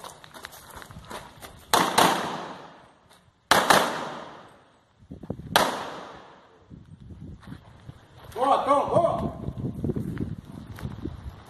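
Three sharp, loud gunshots about two seconds apart ring out in open air during a police shooting drill, followed by muffled voices and shuffling movement.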